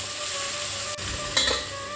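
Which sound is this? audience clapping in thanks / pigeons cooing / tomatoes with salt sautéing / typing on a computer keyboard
tomatoes with salt sautéing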